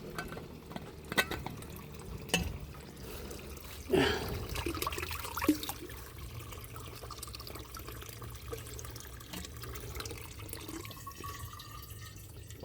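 Water trickles and drips from a bamboo spout outdoors, a thin steady flow with a few louder splashes and knocks near the start, fairly faint and close.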